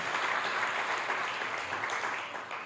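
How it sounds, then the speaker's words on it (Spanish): A church congregation claps together in a sustained, dense round of applause that fills the room, steady and fairly loud, tapering slightly at the end. "Denle un aplauso al Señor porque Él se inventó esto llamado iglesia."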